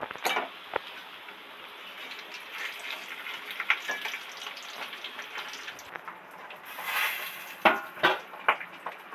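Fish pieces fry in oil in a wok, a soft steady sizzle with occasional clinks and scrapes of a utensil, growing briefly louder near the end.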